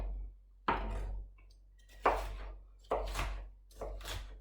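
Four separate knife chops through capsicum on a cutting board, each a crisp thunk of the blade against the board with slow uneven gaps between them.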